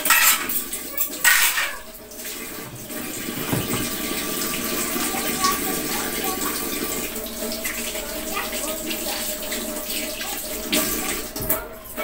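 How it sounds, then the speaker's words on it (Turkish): Dishes and cutlery clatter and clink as a dishwasher is unloaded in a home kitchen. Sharp knocks come in clusters near the start and end over a steady running-water hiss, with some background voices. "Bulaşık makinesini bir boşaltayım önce."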